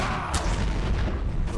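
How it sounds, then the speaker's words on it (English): An explosion in the video game Garry's Mod, Trouble in Terrorist Town, bursts as one sharp boom near the start, followed by a dense rumbling wash that holds steady for the rest of the short moment. "That was an explosion."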